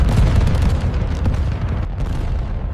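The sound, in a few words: anti-aircraft guns firing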